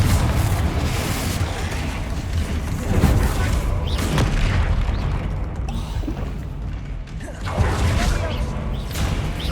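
The Confringo fire spell bursts in the video game Hogwarts Legacy, loud booming blasts with rushing whooshes in dense, continuous combat noise, one heavy boom standing out near the end.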